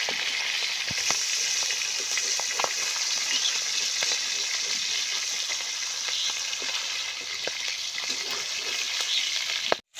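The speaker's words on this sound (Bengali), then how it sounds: "কড়াই গরম হয়ে গেছে মাছ ভাজার জন্য" Small tengra fish frying in hot oil in a kadai with turmeric and salt, giving a steady close sizzle with occasional pops and a brief clatter at the end.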